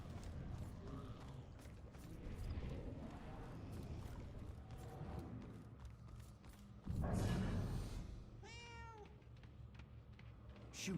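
A cat meows in the video game Murdered: Soul Suspect, a clear wavering meow rising near the end over quiet mechanical clicks, creaks and a brief burst of noise.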